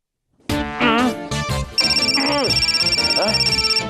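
A phone ringtone plays: a steady, repeating electronic ring pattern that keeps going, with a child's and an adult's voices talking and exclaiming over it.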